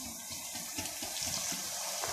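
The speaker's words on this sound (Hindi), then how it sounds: "थोड़ा सा पानी डालेंगे" A little water is poured into bitter gourds cooking in a pan with chili, turmeric and salt. The pour is brief, soft and splashy, and a small sharp click comes at the end.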